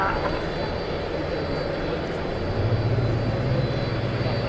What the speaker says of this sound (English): And now we've got some pushback happening.